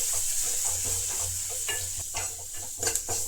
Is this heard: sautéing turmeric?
yes